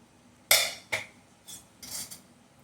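Metal clanks and clatters from a pressure cooker lid being opened after cooking pearl millet porridge: four or five close, sharp knocks and scrapes, with no talk.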